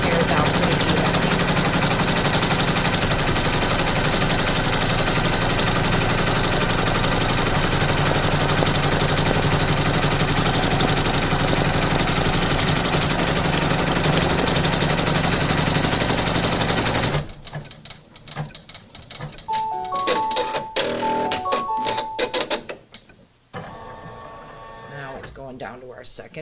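An embroidery machine runs a steady, loud, rapid stitching pass around the edge of a baby lovey blanket in the hoop, then stops abruptly and leaves quieter handling clicks and faint tones.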